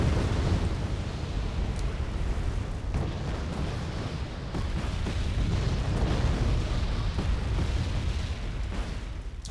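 Artillery shelling in the real-time strategy game Wargame: Red Dragon, a dense, continuous rumble of overlapping explosions and booming impacts that stays loud and heavy throughout, with no talking.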